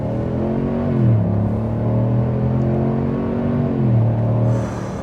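A Chevy Silverado pickup engine accelerating in normal mode, a close, steady rumbling drone that rises in pitch through two upshifts as the truck gathers speed.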